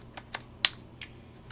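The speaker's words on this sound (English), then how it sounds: "a physical clicking sound and a software clicking sound, so you know that it's solidly attached." A Nintendo Switch Neon Joy-Con slides onto the console, giving a few sharp, close plastic clicks spaced out, with one louder snap as it locks, in a quiet room.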